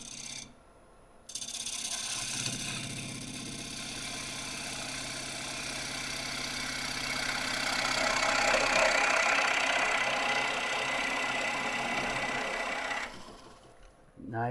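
Gouge cutting a thin-walled, undercut piece on a wood lathe, a continuous whirring scrape of the tool on spinning wood that swells in the middle and stops near the end, with a brief quiet gap at the start.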